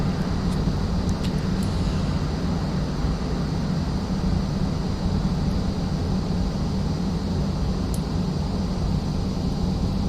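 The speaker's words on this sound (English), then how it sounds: "we'll turn on our lights for taxi, and we'll start taxiing to runway 27" Airbus A321 taxiing in a flight simulator, a steady broadband engine rumble and hiss that holds at an even level throughout, with a few faint high clicks and no voices.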